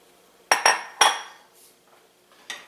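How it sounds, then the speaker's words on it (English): Old notched wooden spoon knocking against the edge of a pan: three quick sharp taps in a cluster, a pause, then one lighter tap, close and crisp in a quiet kitchen. "one of my ancient wooden spoons that has notches on it, from tapping on the edge of the pan"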